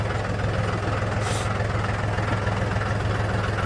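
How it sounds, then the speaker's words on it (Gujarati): Village tractor engine idling in a steady, low rumbling drone that stays even throughout, close and fairly loud, with no talking. "તમે મિત્રો જો આપણે ટ્રેક્ટરને રાઉન્ડ લગાવી લઈએ."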